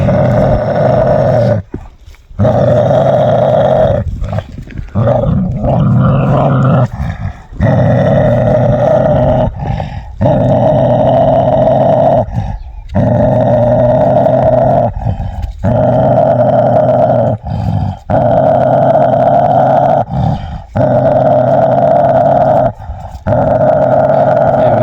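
A large black dog on a village farm growls deeply and continuously in long, loud rumbling bursts, each broken by short pauses for breath, close to the listener.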